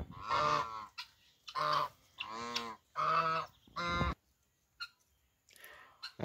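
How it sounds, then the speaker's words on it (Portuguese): Several loud, drawn-out honks from geese on a rainy countryside farm, close and strongly harmonic, coming in four or five separated calls, followed by quieter scattered sounds. "Os gansos já desceram."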